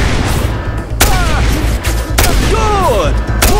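Loud gunfire from a mounted gun in Just Cause 2: three heavy booming shots, spaced about a second apart, ring out over shouting voices and dense combat noise.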